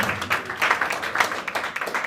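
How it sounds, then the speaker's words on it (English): Applause for the chairperson at the launch of a national security association, light scattered clapping from a modest crowd, fairly distant and uneven. "Can we just give a round of applause to the chairperson?"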